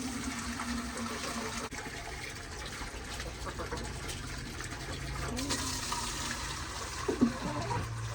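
Water from a hose on a well supply gushes steadily into a chicken waterer, a continuous rushing fill with a faint voice briefly underneath.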